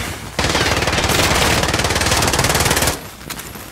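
Sustained automatic machine gun fire in the shooter game Warzone, a loud rapid burst lasting over two seconds before cutting off, followed by a few scattered fainter shots.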